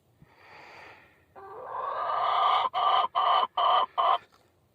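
Several backyard chickens clucking close by, a low murmur rising into a long squawking call, then four loud evenly spaced clucks in quick succession.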